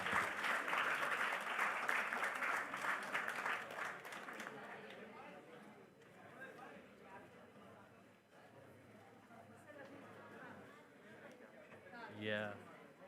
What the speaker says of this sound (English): Large round of applause.